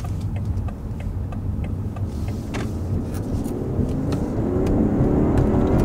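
A 2018 BMW 540i's turbocharged 3-liter inline engine revving and pulling harder as it accelerates, its rising tone building steadily louder toward the end.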